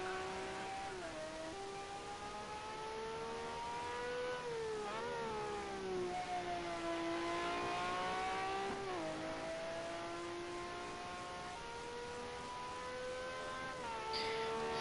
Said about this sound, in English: Hear that engine scream coming down towards Blanchimont.